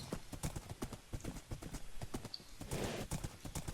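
Steady clip-clop of a ridden horse's hooves in a video game, a brisk, even rhythm of close hoofbeats running throughout over a low background bed.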